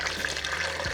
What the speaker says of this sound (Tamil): இப்போ நான் இன்னும் கொஞ்சம் தண்ணி சேர்க்க போகிறேன்.